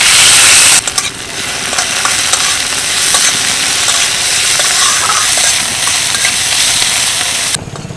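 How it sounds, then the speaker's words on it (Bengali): Garlic and chopped onion fry in hot oil with a loud, steady broadband sizzle that runs nearly the whole time, with occasional stirring scrapes and a brief louder burst at the start. "এগুলোকেই ভেজে নেবো তেলের মধ্যে তার জন্য আমি কিছুটা রসুন এগুলো দিয়ে দিলাম আর দিয়ে দিচ্ছি পেঁয়াজ কুচি"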